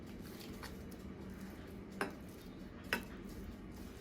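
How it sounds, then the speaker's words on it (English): A kitchen knife cuts turkey breast into thin strips on a board, giving two faint, separate knocks about a second apart over a quiet room hum. "So let's cut this into little strips."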